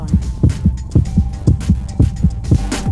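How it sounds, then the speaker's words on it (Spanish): Heartbeat thumping in a steady rhythm, about two beats per second with paired lub-dub pulses, close and prominent over a faint low hum, with no voices. "como el latido del corazón."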